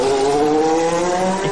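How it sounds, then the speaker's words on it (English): A modified two-seater F1 car screams along the Yas Island track in Abu Dhabi, its high-pitched engine note loud, close and sustained with a slowly shifting pitch, no talking. "I was just to be a passenger in a modified two-seater F1 car"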